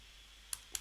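A few faint computer keyboard keystrokes, two or three sharp clicks near the end over quiet room hiss.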